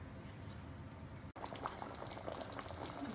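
Chicken pieces simmer in a pot of liquid, a steady close bubbling hiss with soft pops, broken by a brief cut partway through.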